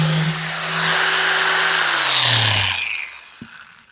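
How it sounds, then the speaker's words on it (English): Power sander smoothing dried filler over a repaired scratch or dent, a steady loud whine that winds down and stops near the end, followed by a single faint knock. "And I'm going to do it again by sanding."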